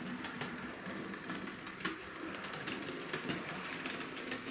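Faint, irregular clicks and clacks of a small model train rolling over siding points at a station, steady mechanical rattle throughout with a few sharper ticks.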